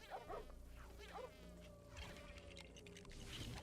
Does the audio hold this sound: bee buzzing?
yes